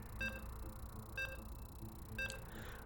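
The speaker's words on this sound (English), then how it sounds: "As you can hear the beeps, we're loading in." Loading beeps in StarCraft 2 sound as three short, faint, evenly spaced electronic beeps about a second apart, with no talking over them.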